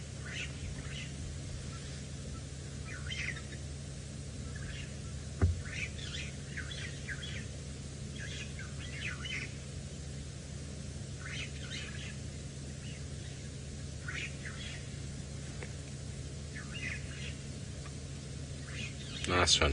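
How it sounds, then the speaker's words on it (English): Starlings chatter and chirp in scattered bursts at sunset on a safari drive, distant and fairly faint over a steady low rumble of wind or vehicle noise. "You can hear the starlings in the background making a whole lot of noise"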